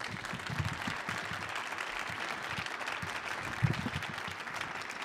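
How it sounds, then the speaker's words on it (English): Audience clapping for a gospel group at a live stage concert, a moderate, continuous patter of many hands, somewhat distant and even for several seconds. "You can clap your hands for them"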